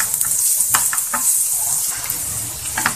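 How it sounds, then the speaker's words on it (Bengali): Chopped onion with garlic fries in hot oil in a pan, giving a steady, close hiss and sizzle with soft stirring scrapes and small crackles over three seconds, no talking. "পেঁয়াজটাকে আমি 1 মিনিটের মতো ভেজে নেব।"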